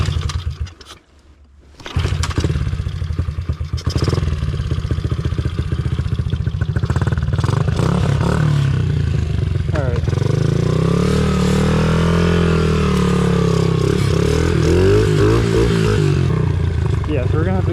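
A Honda CRF50 big-bore dirt bike running on jet fuel revs hard and continuously in mud, its loud, close engine rising and falling in pitch after a brief quiet start, with clatter and possible voices mixed in.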